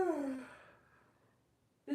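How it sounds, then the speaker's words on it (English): A single drawn-out human yawn falls in pitch and trails off into a quiet breathy exhale, close and fairly soft, and a brief voiced sound begins right at the end. "I'm gonna have a real yawn."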